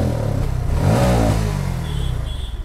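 A Bajaj Pulsar NS160 BS6 motorcycle engine revs hard at full throttle, close and loud, the pitch climbing then settling into a rough, uneven idle, consistent with its stalling and misfiring fault.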